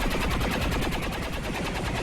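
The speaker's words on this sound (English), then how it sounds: "here comes Tank with the beam cannon" A beam cannon fires in the video game XCOM 2, a dense, loud, sustained burst of rapid crackling blasts that fills the whole stretch without a break.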